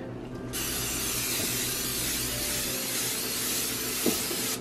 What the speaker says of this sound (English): So now, we gotta spray it.